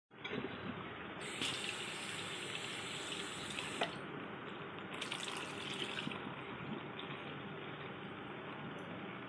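Tap water runs steadily into a sink while dirty coconut pieces are rinsed clean for rice payesh, a continuous splashing stream with brief brighter bursts of spray.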